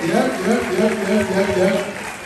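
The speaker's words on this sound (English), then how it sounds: "Keep clapping for him." An audience applauds and claps for a musician at a national cybersecurity challenge event, steady crowd clapping underneath a loud announcer's voice.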